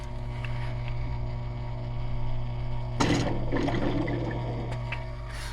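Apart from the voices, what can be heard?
air blown into water tank line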